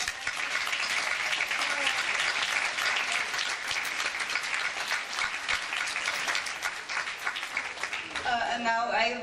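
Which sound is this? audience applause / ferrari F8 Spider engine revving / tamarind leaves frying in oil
audience applause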